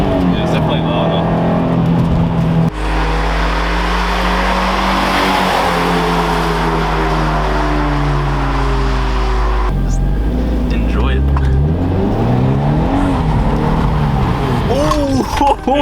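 A Toyota 86 GTS with an X-Force catback exhaust revving loudly nearby, engine climbing and dropping in deep roaring bursts, with people's voices faintly underneath.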